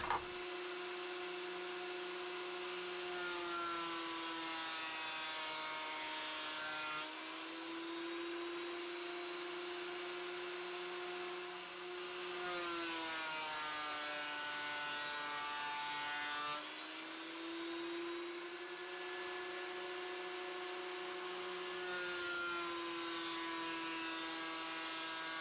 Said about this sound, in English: Get some wood cut, or at least put it through the planer. So we'll dig the planer out